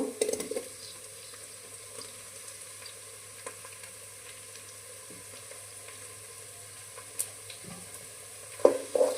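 Chopped tomato fries for khichuri in a pan over cooked onions, a soft, steady sizzle with faint hiss, interrupted by a few quiet clinks and scrapes near the end.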